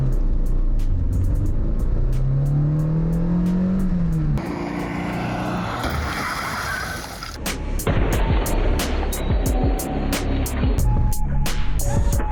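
A Renault Mégane with airbags drives toward a crash with a parked Twingo, a loud close engine roar with a rising whine that shifts into gritty rolling noise and sharp clicks, no talk.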